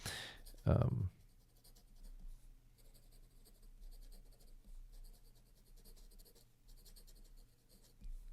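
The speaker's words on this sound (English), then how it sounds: "In all directions, it writes well." A Kaweco Perkeo fountain pen writing on paper, a soft continuous scratch of the nib close by, with a brief louder knock near the start.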